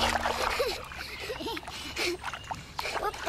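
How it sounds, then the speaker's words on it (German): Water is poured over a child in a children's cartoon, giving intermittent splashing and sloshing under high, chattering cartoon voices. "Gießt Wasser über mich."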